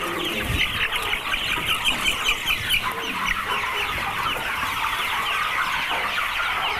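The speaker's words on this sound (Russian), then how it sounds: "Это вот у нас будущие несушечки. Мастер Грей называется." A flock of young Master Grey laying hens, egg-and-meat pullets on a farm, clucks and chatters continuously nearby, many overlapping soft calls forming a steady busy murmur.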